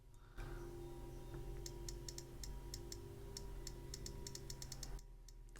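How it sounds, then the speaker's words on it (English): A first-generation iPod touch running iOS 1 gives off a string of small, crisp clicks, some in quick pairs, faint over a low hum, with no talking. "it made like a clicking noise"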